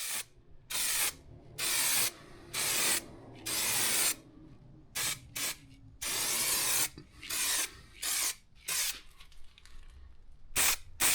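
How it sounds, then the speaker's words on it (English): Aerosol spray can of Raptor bedliner coating hissing in a series of short and longer bursts with brief pauses between, applied to Jeep JK inner fenders, close and fairly loud, no talking. "I applied aerosol Raptor liner in several thin coats"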